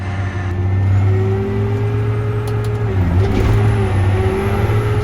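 An old combine harvester works a bean field at night with a draper header, its engine a loud, steady drone that dips and climbs again midway as the driver double-clutches into second gear.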